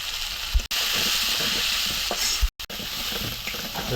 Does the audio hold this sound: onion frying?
yes